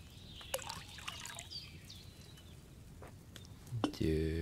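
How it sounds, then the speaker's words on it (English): Wine pours from a pitcher into a cauldron in the medieval role-playing game Kingdom Come: Deliverance, a soft trickling splash that runs faintly under background game sounds before a louder tonal sound swells in at the end. "First, you have to pour the right base into the cauldron."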